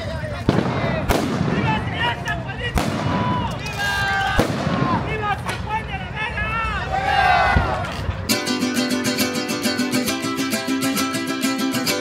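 Sharp blasts from explosive hammers struck at a festival in San Juan de la Vega crack loudly one after another amid a noisy crowd, followed by a burst of brass band music.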